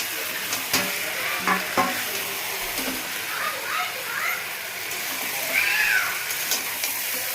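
Potatoes frying in a pan for Kashmiri aloo dum, a soft continuous sizzle with a few sharp clinks of a stirring spoon and some faint background voices.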